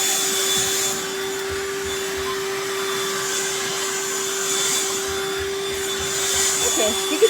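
A BLACK+DECKER Dustbuster cordless handheld vacuum runs continuously at close range with a steady, loud motor whine and faint bumps as it moves, ending with a small clunk.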